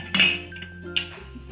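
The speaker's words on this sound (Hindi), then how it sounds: "इसके बाद हम ढक्कन लगाएंगे" A pressure cooker lid, with its rubber gasket and whistle removed, is set onto a cooker holding a tin of chocolate cake batter. Two sharp metallic clinks sound close by, the first louder, followed by a low steady hum.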